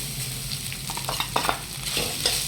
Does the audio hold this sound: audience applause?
no